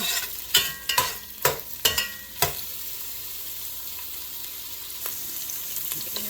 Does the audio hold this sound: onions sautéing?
yes